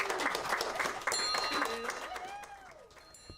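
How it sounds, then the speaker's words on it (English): An audience applauds at a hospital cancer center celebration, steady scattered clapping under a speaker's voice, with brief tonal sounds rising and falling near the end. "You guys can clap,"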